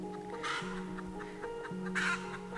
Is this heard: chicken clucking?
yes